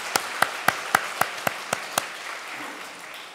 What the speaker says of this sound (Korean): 우리 박수로 이분들을 축복합시다